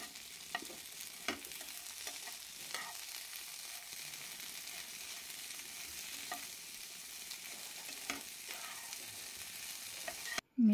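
Okra stir-frying with garlic for lasuni bhendi, a soft, steady sizzle with intermittent spatula scrapes and stirs throughout, ending in a brief loud clatter; no talking.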